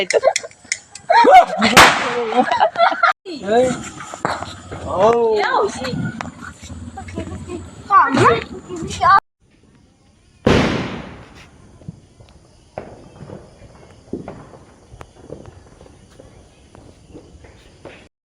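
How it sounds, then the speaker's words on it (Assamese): People talk excitedly, then a single sharp, loud bang bursts out, followed by quieter crackling and murmuring voices. "ইয়াতে বোমা মাৰিব"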